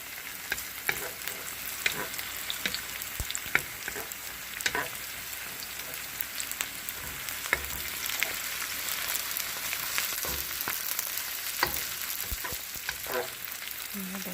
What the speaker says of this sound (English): Once the spicy here starts to stir fry and brown a little bit